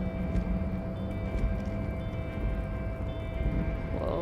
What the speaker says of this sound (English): It's raining. Oh my gosh, it's raining.